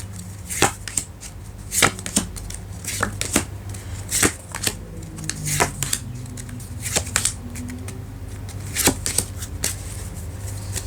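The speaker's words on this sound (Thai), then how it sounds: "เรามาดูไพ่ออราเค้านะคะ" Oracle cards shuffled and tapped by hand, making a series of crisp, separate slaps and riffles at an uneven rhythm, close and clear over a faint steady hum.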